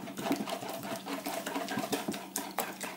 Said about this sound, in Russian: Сразу же взбиваю.